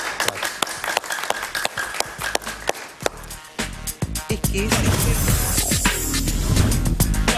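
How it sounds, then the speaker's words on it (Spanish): A television studio audience applauds a guest, Horacio Medina, with sharp claps in a mixed, uneven rhythm that swells into a loud, dense burst of clapping in the second half. "Regresamos con el gran Horacio Medina, un aplauso para él, por favor"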